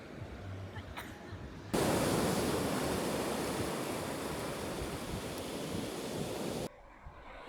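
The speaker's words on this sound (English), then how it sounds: "The Grande Plage in Biarritz is a popular spot for surfers thanks to the powerful waves." Powerful surf breaks steadily on the Grande Plage in Biarritz on the Basque coast, a loud, continuous roar of waves that starts abruptly after a quieter opening and cuts back to low ambience near the end.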